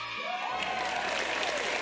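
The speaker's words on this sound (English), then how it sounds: "Big round of applause" A crowd breaks into a big round of applause with some cheering, a continuous loud wash of clapping that fills the brief moment from start to finish.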